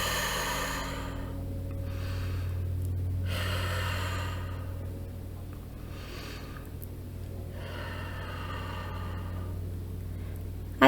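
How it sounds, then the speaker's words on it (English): A person takes three slow, deep breaths during a guided meditation. Each inhale and exhale is audible as a long airy rush, evenly spaced over a low steady hum. "take 3 deep breaths. Inhale and exhale."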